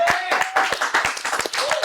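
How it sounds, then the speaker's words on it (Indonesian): A short burst of audience clapping at a presentation about a forest orchestra event, irregular claps mixed with voices and cheering. "Tepuk tangan teman-teman."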